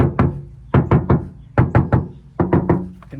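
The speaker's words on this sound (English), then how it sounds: "And we will go around and do a thud test." Knuckles rap on a Ford Ranger Raptor door in quick groups of three, with short pauses between sets, producing hollow, close knocks.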